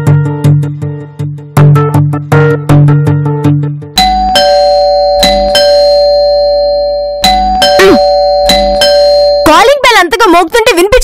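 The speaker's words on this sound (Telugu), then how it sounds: "కాలింగ్ బెల్ అంతగా మోగుతుంటే వినిపించుకోరేంటి?" A doorbell rings repeatedly in a home during a Telugu comedy scene, loud chimes recurring with music and voices around it.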